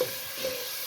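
Chopped onion, tomato and garlic-ginger paste masala frying in a pan, giving a short, steady close sizzle with a soft hiss and no talking.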